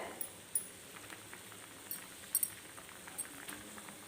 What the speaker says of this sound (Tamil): நல்லா கொதித்து வந்துடுதுங்க